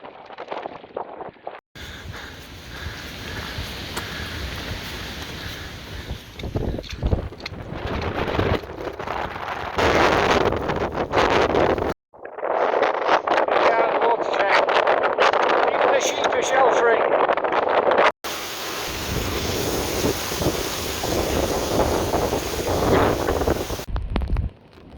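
Strong wind buffets the microphone with roaring gusts, while big waves on a lake wash and churn in the background; the noise cuts out briefly a few times.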